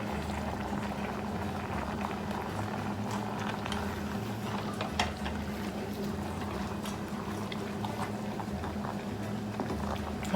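Jambalaya rice being stirred in a pot, a steady wet bubbling and sloshing of thick liquid, moderately close and continuous, with a low constant hum beneath and no talking.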